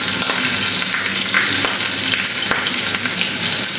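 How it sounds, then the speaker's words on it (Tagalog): Shrimp sizzle and fry in a pan of olive oil, a steady, dense crackle with scattered pops, close and continuous with no talking. "So yung shrimp is ipopry natin siya ng konti"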